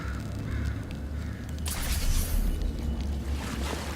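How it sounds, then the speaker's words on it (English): In Portal 2, a bird caws while carrying GLaDOS through an eerie underground area, a harsh call over a low ambient game drone, followed by a loud swelling whoosh. "There's GLaDOS being picked up by the bird."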